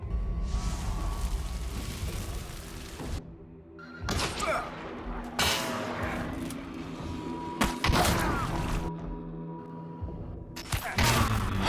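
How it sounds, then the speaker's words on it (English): Gunfire and impacts from a gunfight in the video game Hunt: Showdown come in several loud bursts with gaps between them, heard alone and mixed with thuds, whooshes and echoing reports. "Do you hear a gunfight?"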